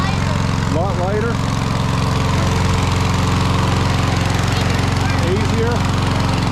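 A lawn mower engine runs loud and steady just after starting, a constant rough drone with a throbbing pulse, while people talk over it.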